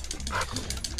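A dog barks in the video game The Last of Us Part II, a gruff, close bark caught in a dense mix of clanking, mechanical game sounds and constant background noise.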